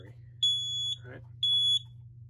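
A carbon monoxide detector alarm sounds during a fire alarm system test, giving two sustained high electronic beeps separated by a short pause, loud and close.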